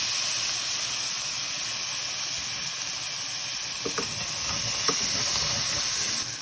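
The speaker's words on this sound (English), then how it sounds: "Now we're going to dump our garlic in here" Garlic sizzles in a pan with caramelizing onions, a steady close hiss with a few faint stirring clicks midway and no voices.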